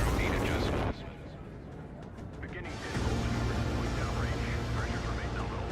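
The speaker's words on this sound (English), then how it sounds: "We have liftoff. Venus rocket," A rocket lifts off in the video game MindsEye: an abrupt, heavy roar cuts off and then swells back into a dense, steady rumble with crackling debris, and a voice speaks over it.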